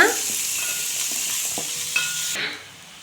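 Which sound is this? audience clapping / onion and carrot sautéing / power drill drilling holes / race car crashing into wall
onion and carrot sautéing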